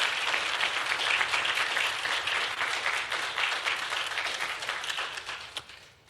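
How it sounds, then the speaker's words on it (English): A community forum audience claps for a panel of speakers in a sustained, full round of applause that stays steady and then tapers off at the close, with no talking over it. "let's give a round of applause to our fantastic panel"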